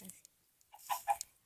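A small hen clucks softly in a few brief, close bursts, faint and quick, in a quiet setting with no one speaking.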